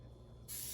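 Cooking spray squirts into a baking pan lined with parchment paper: a quiet moment, then a sudden sharp, steady hiss that starts abruptly and keeps going.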